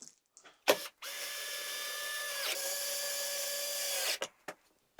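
Three small black screws are driven into the mount of a hand-recognition smart door lock, the Lockin Veno Plus. A power driver whines steadily for about three seconds, with its pitch dipping once, between sharp clicks and knocks close by.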